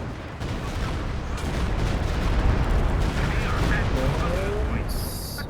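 Booming mortar artillery fire from a real-time strategy video game, a dense rumbling barrage of blasts under continuous commentary.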